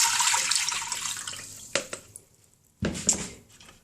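Three cups of water poured from a tap into an Instant Pot's stainless inner pot: a steady splashing stream, then a pause, then two short clanking splashes of water and metal, close and loud.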